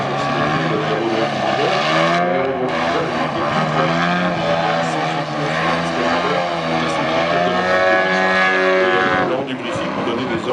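Aerobatic airplane at an air show, its engine droning loudly and continuously with rising and falling pitch as it maneuvers, close and dominant throughout.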